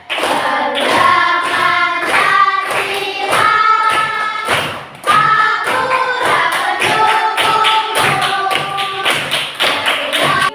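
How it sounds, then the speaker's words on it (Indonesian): A primary school class performs the patterned clap chant "tepuk ceria belajar", crisp loud handclaps in rhythmic groups with sung chanting over them, pausing briefly midway before the pattern resumes. "Ibu punya tepuk, namanya tepuk ceria belajar."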